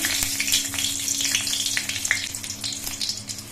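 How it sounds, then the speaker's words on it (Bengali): Two dried red chillies crackle and sizzle in hot mustard oil in a wok, a continuous close frying hiss with small pops. "সর্ষের তেলটা গরম হয়ে যাওয়ার পর এর মধ্যে আমি দুটো শুকনো লঙ্কা দিচ্ছি"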